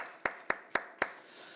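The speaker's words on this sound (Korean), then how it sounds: "축하드리고 하나님께 감사와 영광의 박수를 올려드리겠습니다." Four sharp, evenly spaced claps ring out faintly at a church healing service, each with a short echo, followed by quiet room tone.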